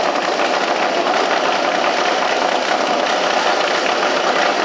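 A Harley shovelhead drag-racing motorcycle engine at a Las Vegas pro drag meet, a loud, steady rumbling drone that holds constant throughout.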